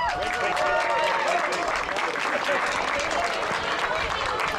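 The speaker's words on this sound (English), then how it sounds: "Round of applause, everybody." Applause from a crowd gathered outdoors at a hunting team awards event, steady broadband clapping throughout, mixed with voices talking and calling out over it.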